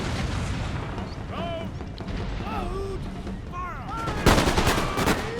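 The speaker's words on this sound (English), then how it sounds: "That is a lot of good fire then." Musket volley fire in the strategy game Empire Total War during a British campaign battle: a loud, sudden ragged burst of massed shots near the end, with crackling gunfire earlier, under a voice talking throughout.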